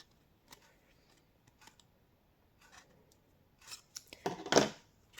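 Scissors snip a slit into paper notes for a 3-D Tombow glue and accessories holder: a few faint, scattered snips, then a louder close burst of rapid cuts near the end, with no talking.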